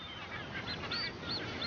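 Ascension Island frigatebirds give nasal, honking calls in a seabird colony, several overlapping cries rising and falling close by over a constant wash of background noise.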